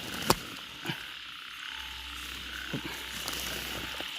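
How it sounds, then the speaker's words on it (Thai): Frogs croaking on a rainy night while mating, a dense chorus of calls under a wet hiss, with a few sharp clicks standing out near the start and more faint croaks later. "กบเข้าคู่ครับ"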